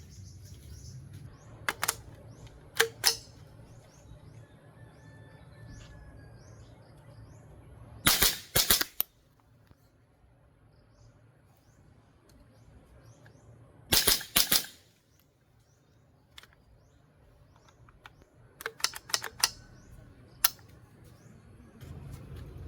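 Sharp rifle shots at an outdoor shooting range while a trigger and compensator are tested, fired in several tight bursts of two or three rapid cracks separated by long quiet stretches with faint ambient noise between.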